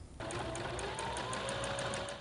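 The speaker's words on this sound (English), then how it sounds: "Wendy Morell of Marco Island, Florida, has been giving her sewing machine a workout since late March." A sewing machine stitching protective gear during the COVID crisis runs in a fast, steady mechanical whir with regular rapid needle clicks, close and continuous after a brief start.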